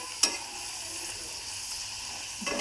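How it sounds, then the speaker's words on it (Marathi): Dal frying in oil in a pan for a cabbage dish, giving a steady, moderate sizzle with a sharp scrape of stirring near the start and another near the end, close by and without talk. "हे बघा छान आपण तेलात तळून घेतलेली आहे डाळ छान लाल कलर येऊपर्यंत"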